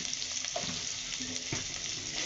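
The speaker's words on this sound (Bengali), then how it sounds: "লঙ্কা গুঁড়ো দিয়ে মশলাটা কষে নেব।" Spice paste with chilli powder, coriander powder and turmeric sizzling steadily in hot oil, with intermittent scraping strokes as it is stirred, close and continuous.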